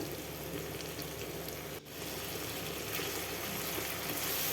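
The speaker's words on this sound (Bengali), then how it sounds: "আবারও একটু ভেজে নেব সরিষা পোস্ত" Mustard and poppy seed paste frying with tomato in a pan, a steady close hiss and sizzle with fine crackling throughout, briefly dipping for an instant before carrying on evenly.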